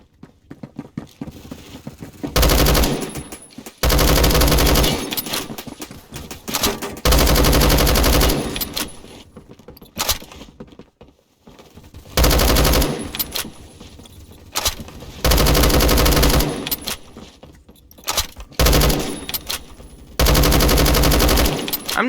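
Battle rifle fire in the shooter game Phantom Forces, heavy and booming, comes in repeated loud bursts of rapid shots separated by short pauses.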